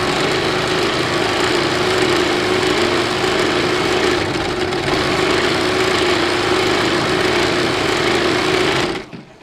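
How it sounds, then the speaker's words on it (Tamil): A sewing machine runs steadily for about nine seconds, stitching a seam on a tulip-petal sleeve, with a constant motor whine and rapid needle chatter. It stops abruptly at the end, and no one talks. "இப்போ இதில் இன்னொரு தையல் போடணுங்க."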